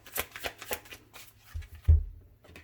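Tarot cards shuffled by hand during a card reading: a few quick riffling and slapping bursts, close and fairly loud, with a soft thump near the end and no talking.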